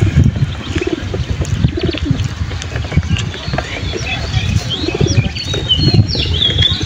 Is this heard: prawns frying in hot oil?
no